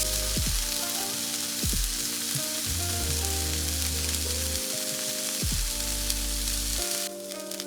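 Chicken pieces for a sandwich sizzle steadily in a hot pan, a continuous bright hiss broken by a few soft scrapes and thuds as they are flipped, with steady tones running underneath.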